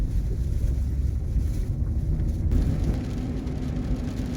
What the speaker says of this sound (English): I'm gonna fight wind and rain the whole way up here